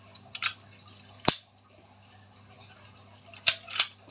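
Ratchet brake on a manual pulley for a sliding canopy gives a few sharp, close mechanical clicks spaced irregularly, with short pauses and soft background hum between them.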